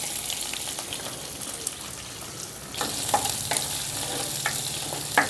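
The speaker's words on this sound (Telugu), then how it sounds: "ఇప్పుడు కొద్దిగా ఉల్లిపాయ కూడా వేసుకుందాం" Chopped onion drops into hot oil already holding cumin and curry leaves, a soft sizzle that swells into louder frying with stirring scrapes and clinks, close and without speech.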